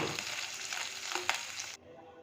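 Cashews, raisins and almonds fry in ghee with a soft, steady sizzle and a couple of stirring scrapes, then the sound cuts off abruptly near the end.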